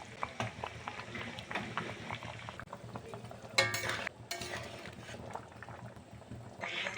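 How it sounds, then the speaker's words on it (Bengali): A tilapia fish curry with potatoes, peas and drumsticks bubbles in a pot, a steady soft boiling and simmering sound that stays quiet and continuous, with a few faint clinks. "তো তরকারিটা আমার ফুটছে।"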